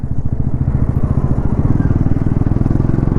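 Bajaj Pulsar NS400Z 2026 motorcycle with a 349cc engine ridden through city streets, a loud, close, rapidly pulsing engine thrum that is steady throughout.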